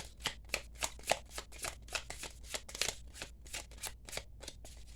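A brand-new tarot deck being shuffled by hand, a steady run of crisp, close card riffles and slaps repeating about every quarter second, quiet and without talk.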